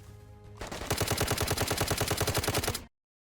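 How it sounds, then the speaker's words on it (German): A single sustained burst of automatic gunfire in the video game DayZ, loud and close, hammers out evenly spaced shots for about two seconds before cutting to silence. "Ja, ich schieß auf ihn."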